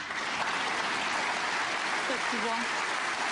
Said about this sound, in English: We'll hear some applause in the minute.